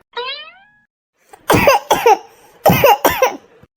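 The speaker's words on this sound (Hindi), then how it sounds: "ये तो मम्मी की खांसी की आवाज है" A brief rising tonal sound, then four harsh coughs in quick succession, loud and close.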